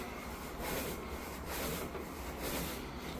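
Carpet brushed by hand to pull out hair during a cleaning job: a close, continuous scrubbing rasp in steady back-and-forth strokes about every half second, with no talk.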